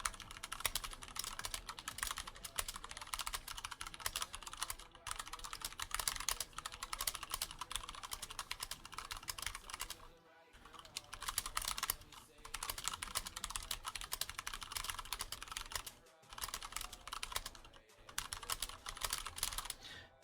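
Continuous rapid typing on a clicky mechanical keyboard, close up, with brief pauses between bursts of keystrokes.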